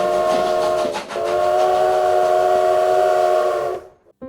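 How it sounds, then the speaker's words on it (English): A steam train stands hissing with a loud, sustained whistle-like squeal of metal that breaks off briefly and then holds steady before cutting out abruptly. "From outside came the sounds of hissing steam and squeaking metal."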